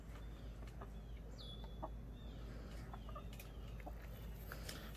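Chickens cluck steadily, with some short, higher bird calls mixed in over constant farmyard background noise.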